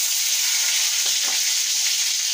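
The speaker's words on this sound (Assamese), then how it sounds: "কাটি থোৱা কেইটুকুৰামান পিঁয়াজ দিলোঁ।" Chopped onions dropped into hot oil with five-spice seeds, a loud, steady close-up sizzle with a brief stirring scrape partway through, and no voices.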